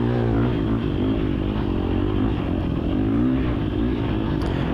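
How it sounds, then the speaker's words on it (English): A dirt bike engine drones loud and close during a sprint enduro race, its pitch wavering as the throttle is twisted and held, with no pause in the steady roar. "Twist on the throttle."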